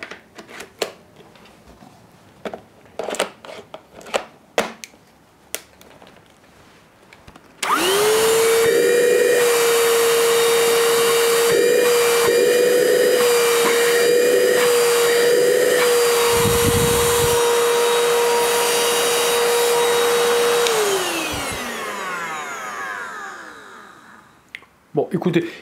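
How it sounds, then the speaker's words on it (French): A FERM cordless shop vacuum powered through a Parkside battery adapter starts up after some clicks and handling, then holds a loud steady whine for about thirteen seconds before spinning down gradually, with a voice talking at the start. "il ne fait pas trop de bruit, il aspire, il souffle bien"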